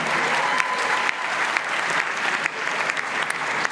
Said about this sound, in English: There's a round of applause right there.